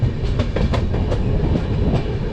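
The Nanda Devi AC Express runs on rails with a loud, steady rumble heard from inside, carrying a faint, irregular clickety-clack of wheels over joints throughout.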